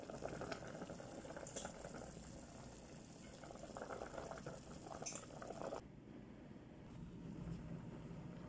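A pot of water at a rolling boil for cooking rice gives a steady, soft bubbling and hissing up close, with a sudden drop in the upper hiss partway through and no talking.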